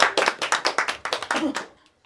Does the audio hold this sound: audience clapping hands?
yes